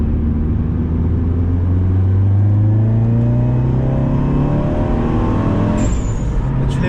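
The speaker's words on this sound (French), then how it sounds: "Parce que le moteur il gueule." A car engine revs hard on a race track, its pitch climbing steadily through a high gear, loud and close throughout, with a brief shift near the end.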